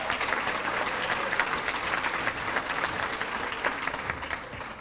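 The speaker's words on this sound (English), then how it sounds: "Let's give another round of applause to our employees with 30 years." A crowd at an employee recognition ceremony applauds staff honored for thirty years of service, a continuous wash of clapping at moderate distance lasting the full clip, with no talking over it.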